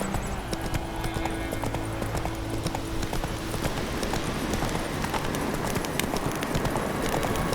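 A horse gallops in The Witcher 3 video game, its hooves a steady rapid clip-clop over a constant ambient bed, continuous and fairly quiet throughout.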